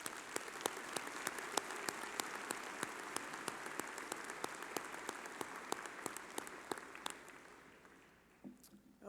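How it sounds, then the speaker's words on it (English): A crowd at a university commencement claps steadily, a dense wash of applause with sharp individual claps on top, fading out near the end. "Please give them all a round of applause."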